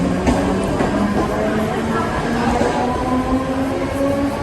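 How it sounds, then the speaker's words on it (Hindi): A Mumbai local train pulls into a station, a continuous dense rumble of wheels and carriages with metallic squeals and faint crowd murmur throughout, loud and close. "हमारी ट्रेन आ चुकी है, अब इस पे हम बैठते हैं।"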